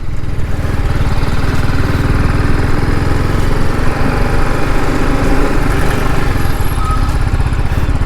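A 2023 TVS Apache RR310 motorcycle engine hums steadily and loudly while riding, a continuous low throbbing drone with constant wind rush and no talking throughout.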